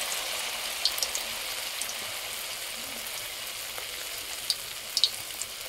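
Pencil pakora fritters frying in a deep pan of hot oil give a steady, close crackling sizzle, broken by a few sharper pops near the end, with no one talking.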